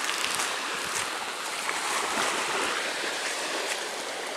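Water rushes and waves wash at a beach, a dense steady hiss with occasional louder surges, close and fairly loud, with no voices.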